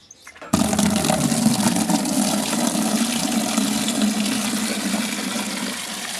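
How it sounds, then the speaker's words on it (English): Tap water gushes at full flow, filling chicken drinkers on a poultry farm, starting abruptly after a quiet moment and rushing steadily and loudly up close, easing slightly toward the end. "Tap water."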